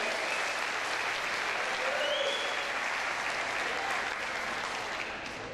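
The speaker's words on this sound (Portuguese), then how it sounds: "Pode aplaudir, é verdade." Steady, dense applause from a large church congregation fills the whole stretch at an even level, with no break.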